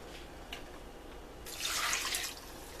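Broth poured into a pan for sausage stew, a faint splashing pour lasting about a second after quiet kitchen background, no voices.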